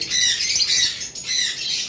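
Pair of red-headed opaline lovebirds squawking in harsh, shrill, continuous calls, close and loud, with no talk.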